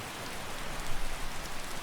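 Steady rain falls in Skyrim, a dense, close hiss of drops striking surfaces that holds at an even level with slight swells, no voices present.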